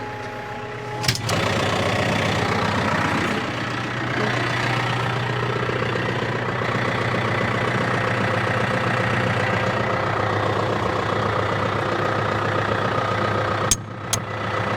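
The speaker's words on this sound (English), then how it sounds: "So I'm just letting the engine warm up" An engine idles while warming up, a steady low hum with a constant drone and faint knocking texture throughout, broken by a couple of sharp clicks near the start and end.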